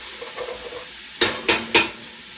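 Food browns in extra virgin olive oil in a pan: a faint steady sizzle, then three quick, louder scraping stirs close by near the end, with no talk.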